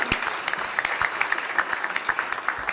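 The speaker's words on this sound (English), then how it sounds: "let's just give them a quick round of applause for putting together a great conference" A conference audience claps in a quick round of applause at a construction and development panel, individual sharp claps standing out from a steady wash, fairly close and even throughout.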